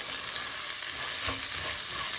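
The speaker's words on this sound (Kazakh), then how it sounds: "Араластырып аламыз." Rice stirred as it fries in hot oil in a pan gives a steady, close sizzle with soft scraping and stirring swishes, with no voices.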